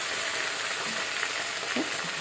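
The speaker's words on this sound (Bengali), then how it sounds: "ধুয়ে নিয়ে এবার এটাকে ভাজবো" Washed leafy greens fry in a pan with a dense, steady sizzle that stays loud and close throughout, and a few soft stirring sounds come through on top.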